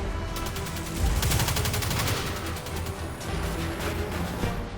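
Rapid SMG fire in the video game Destiny 2: sustained, close automatic bursts that keep going nearly without pause, loud and alone.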